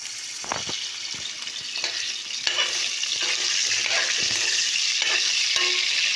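Food frying in hot oil, a constant bright sizzle that grows fuller after a few seconds, broken by repeated scraping and stirring knocks, heard close with no talk.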